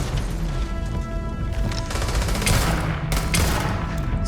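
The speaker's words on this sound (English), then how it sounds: "he's throwing grenades at me" Grenade blasts and gunfire ring out during a Starfield video game firefight, with dense, continuous crackling bursts and heavier booms layered through a loud, chaotic exchange.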